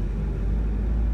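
A manual-transmission car rolls slowly through a neighborhood in low gear, its engine a steady, close, low rumble with no revving or speech.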